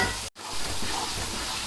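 Tomatoes and green chilies fry in a pan for chicken pulao, a close steady hiss of sizzling oil broken by one brief dropout near the start.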